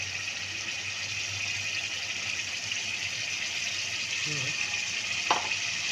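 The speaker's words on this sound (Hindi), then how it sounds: "ये मैंने डाला है इमली का पानी, अब इसको इमली का पानी डाल के भी भूनेंगे" Tamarind water poured over bitter gourd and meat cooking in a pan, giving a faint, steady sizzle with a brief clink near the end, heard alone at low level.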